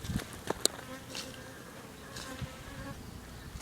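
Japanese bees buzz around a bee lure, a faint, steady hum with a few brief louder passes close by and no voices.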